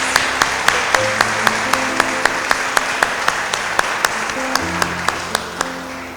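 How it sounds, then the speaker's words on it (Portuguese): Congregation applause during a family church service, steady clapping under sustained organ-like musical tones, with regular sharp beats ticking through the whole stretch. "Eu queria que você aplaudisse Jesus pela vida dele"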